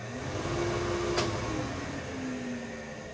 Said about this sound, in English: Our vacuum